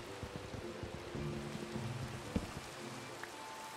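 Rain falling in Minecraft, a steady soft patter of rain with water noise running throughout, alone with no talk.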